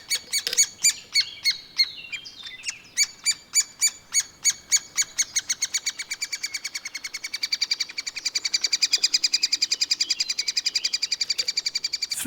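Birds call in a Bavarian mountain forest where a three-toed woodpecker lives, a long run of sharp, rapid repeated squawking notes, steady in rhythm and fairly close, with no voices.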